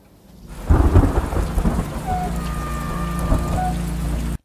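Thunder booms loudly over a steady wash of heavy rain, the rumble rolling on as the downpour continues.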